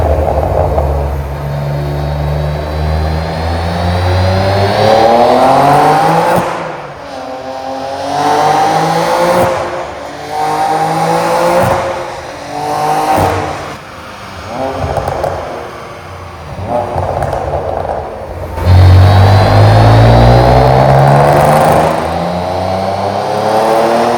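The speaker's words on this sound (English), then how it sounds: "the BMW M3 G80 rear-wheel driven manual." A stage 3 tuned BMW M3 G80, rear-wheel drive, manual gearbox with PTG clutches and about 855 hp, accelerates hard through several gear changes, its engine roaring loud and near with rising sweeps and brief pauses between shifts.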